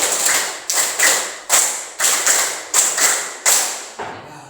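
An audience at a classroom talk on managing emotions claps on cue in two sets of five, seven quick unison claps and one trailing clap in a tight, even rhythm, loud and close with no talk over them.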